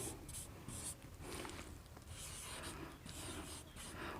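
Pen or chalk scratching out a written chemistry definition in a classroom lesson, a quiet steady rubbing and scraping with short strokes and pauses, faint and close with no talk.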